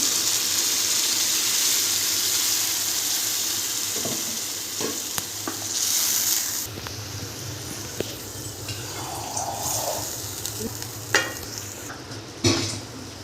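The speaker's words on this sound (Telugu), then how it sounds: "గ్రేవీ వేసుకోవాలి మీ ఇది మొత్తం పోసుకోవాలి గ్రేవీ" Gravy is poured into stuffed brinjal curry (Andhra-style gutti vankaya) frying in a pan, giving a loud steady sizzle that settles into softer bubbling with occasional stirring clinks and scrapes near the end, with no talking.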